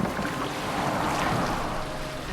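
Boat gliding over water in the Viking game AC Valhalla, a steady broadband wash of water and wind running evenly throughout with no voices.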